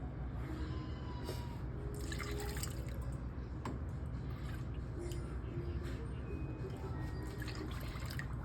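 Milk, two cups, is poured into a mixing bowl for bread pudding, giving a steady liquid trickle and splash over a constant low room hum.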